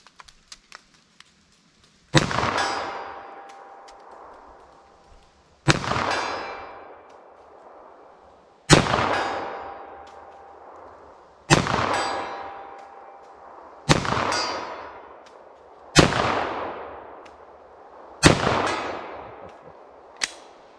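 Eight single shots from a .45 ACP pistol at a shooting range, each a sharp loud crack with a ringing decay, spaced a few seconds apart, preceded by faint small clicks and handling noises.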